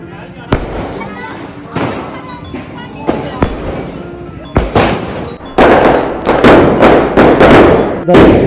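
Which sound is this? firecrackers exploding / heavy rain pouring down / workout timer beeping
firecrackers exploding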